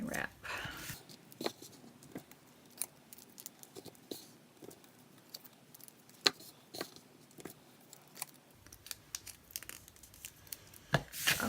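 Paper being wrapped by hand around Hershey Nugget chocolates for a treat bag, giving repeated short crinkling and tearing rustles in an irregular rhythm, close up and moderately quiet, with no talking.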